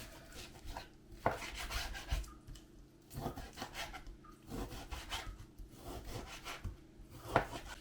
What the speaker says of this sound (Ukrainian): І поки тісто відпочиває, ми м'ясо наріжемо на шматочки